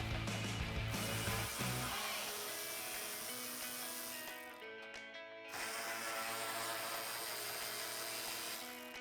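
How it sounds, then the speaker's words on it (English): A ratchet with a 10mm socket backs out the upper bumper bolts on a 2005-2009 Ford Mustang, a steady close run of metallic clicking that briefly drops off midway before resuming. "I'm going to take a 10mm socket on my ratchet and remove the 2 bolts on either side of the front bumper at the top"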